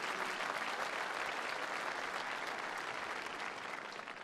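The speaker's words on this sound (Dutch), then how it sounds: "je krijgt applaus" A seated audience at a commemoration evening in Leeuwarden applauds in a steady, even wash of clapping that holds and then eases slightly at the end.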